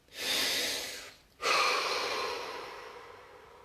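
One slow, deep inhale followed after a short pause by a long, gradually fading exhale, close and soft, during a guided relaxation session.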